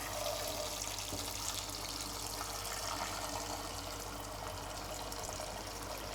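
Water pours steadily into a cooking pot for boiling potatoes, a continuous splashing rush from a tap that holds an even level throughout.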